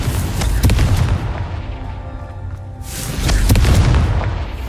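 Confringo spell explosions in Hogwarts Legacy, two heavy booming blasts about three seconds apart, each with a sharp crackling onset and a rumbling low-end tail.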